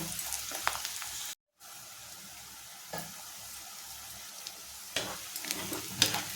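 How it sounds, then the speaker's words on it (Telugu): Onions frying in a pan for a mutton fry dish, giving a steady soft sizzle with occasional louder crackles and stirring scrapes, heard alone with a brief dropout partway through. "ఉల్లిపాయలు బాగా వేగిపోయినాయి."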